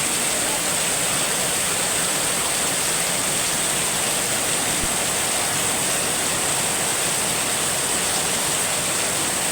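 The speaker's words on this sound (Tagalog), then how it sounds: "Yan, buhos ang ulan." Heavy morning rain in the rainy season in Dasmariñas, Cavite pours down as a dense, constant loud roar that stays unbroken from start to finish.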